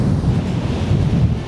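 Strong wind buffeting a microphone on the Irish coast, steady loud rushing and low rumble with surf blending underneath, close and constant.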